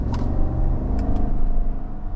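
A 2025 GMC Yukon Denali with a roughly 420-horsepower V8, driving in two-wheel-drive high, accelerates with a loud, steady, close engine rumble that swells slightly throughout.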